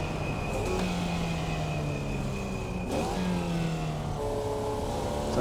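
A Formula Vee race car in the iRacing sim revs through gears, its engine note climbing steadily, dropping at each shift and climbing again, loud and continuous.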